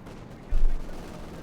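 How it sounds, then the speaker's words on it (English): A single heavy boom from field gun fire in the strategy game Company of Heroes 2 lands over a low battlefield ambience, with the rumble fading out after the shot. "Machine firing up with the field gun"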